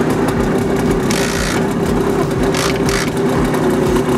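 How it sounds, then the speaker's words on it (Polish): A 1975 Simson Schwalbe KR51 moped engine runs up close after being kick-started. Its steady, loud two-stroke putter holds through the whole stretch, with slight throttle swells and no talk over it. "der Motor springt auf den ersten Kick an, sogar mit der Hand, das zeige ich euch jetzt mal."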